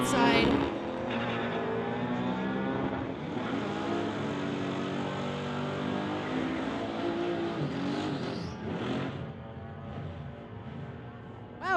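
A Porsche and a Honda drag racing side by side at a street-legal drag event: a continuous loud engine roar and revving across the run, heard under a commentator's voice.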